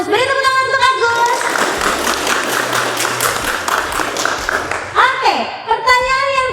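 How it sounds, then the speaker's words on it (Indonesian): A classroom of students applauds a classmate, a burst of many hands clapping for a few seconds between a teacher's spoken lines at the start and end. "Beri tepuk tangan untuk Agus."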